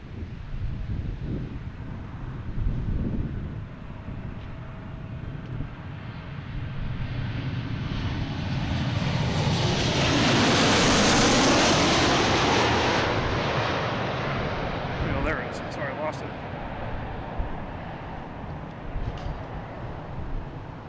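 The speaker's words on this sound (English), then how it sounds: "It's flight 1554 coming in from Chicago." An airliner on flight 1554 from Chicago arrives at Boston Logan International Airport, its jet roar swelling from a distant rumble to a loud, broad peak mid-way and fading again, with wind buffeting the microphone throughout.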